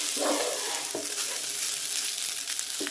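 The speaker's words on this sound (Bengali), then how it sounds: "চালটাকে ভালো করে ভেজে নেব" Rice frying in oil with spices for egg biryani, a soft continuous sizzle with a few scraping strokes of the stirring spoon early on, fairly quiet and with no voices.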